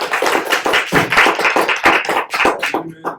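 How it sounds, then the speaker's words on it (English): At a law event, an audience claps for a guest speaker from Georgetown Law and Morehouse College, loud, close individual claps in an uneven rhythm that thin out and stop near the end. "please give our guest speaker a round of applause"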